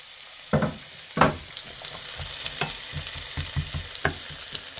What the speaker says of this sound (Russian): И пассируем лук до мягкости.